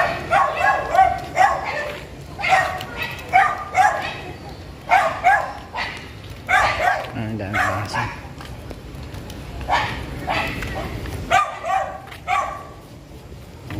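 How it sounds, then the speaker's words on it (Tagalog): Several dogs bark and yip in repeated bursts, some near and some farther off, with occasional whimpering and a brief low rumble midway. "Oh, daming dumami yung aso dito."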